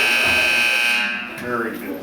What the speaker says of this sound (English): setting off a whole bank of klaxon fire alarms.